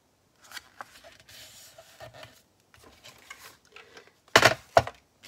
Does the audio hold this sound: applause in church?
no